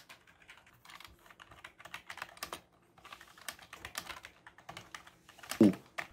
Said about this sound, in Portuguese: é um teclado bem barulhento, especialmente nas teclas como Enter e o espaço, que um clique POU!